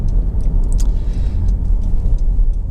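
A 2.2 i-DTEC Honda CR-V EX Auto 4WD drives along a main road, heard from inside the cabin as a loud, steady low engine and road rumble with faint light rattles and no talking.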